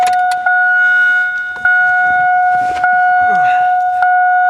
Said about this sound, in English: But if I turn the truck on,